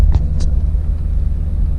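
A 1998 C5 Corvette engine idles nearby with a steady, deep rumble after a pair of brief clicks at the start; no one speaks.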